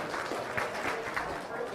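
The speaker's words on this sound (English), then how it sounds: "Can you give yourselves a round of applause for being so involved and engaged?" An audience at a customer experience workshop claps briefly, a soft, moderately dense patter of hands that comes from a modest group rather than a large crowd.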